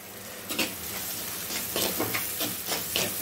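Onions sautéing with salt in oil for an anchovy fish curry, a hissing sizzle broken by repeated scraping strokes of a spoon in the pan, close and moderately loud.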